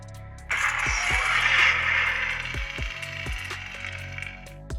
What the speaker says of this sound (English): You'll hear a boot sound which indicates the Saber now has power.